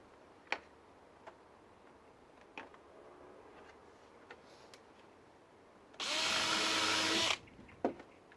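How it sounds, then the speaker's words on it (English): A power drill drives coated outdoor screws into a wooden gate in one loud burst of about a second and a half. Scattered sharp ticks and knocks from handling the work come before and after, with no talk. "So I'm just going to crack on now and screw these on."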